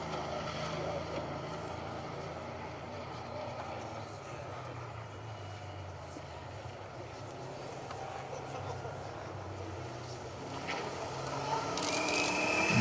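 A rally car runs a forest stage of the Wyedean Stages Rally, its engine a steady low drone that builds slightly toward the end, with faint distant voices underneath.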